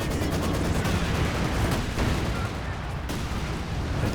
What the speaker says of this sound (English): Causing the incendiary artillery just to clear out the Maxim.